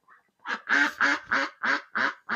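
A duck quacking up close, a rapid run of about seven loud, raspy quacks in steady rhythm.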